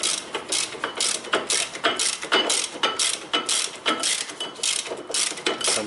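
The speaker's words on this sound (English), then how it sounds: "I start to fasten this bolt." A 17mm ratchet wrench tightens a bolt during car or truck brake repair, giving a steady run of rapid metallic clicking bursts close up, with repeated strokes and no talking.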